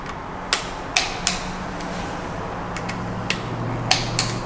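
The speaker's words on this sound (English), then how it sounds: "simply tighten each bolt until the torque wrench clicks" A torque wrench clicks while bike headset bolts are tightened: about eight crisp, separate mechanical clicks at irregular intervals, close and clear over a steady low hiss.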